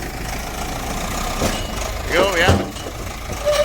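A tractor fitted with an industrial loader runs at idle, a steady mid-low engine drone underneath brief talk and a few short exclamations from people nearby.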